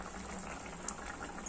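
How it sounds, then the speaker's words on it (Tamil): A pot of green peas kurma curry with potatoes bubbles at a steady, vigorous boil on a home stove, a continuous close-up simmering hiss with no talking. "நமக்கு இந்த குழம்பு ஒரு 10 நிமிஷம் நல்லா நம்ம கொதிக்க விட்டாச்சு"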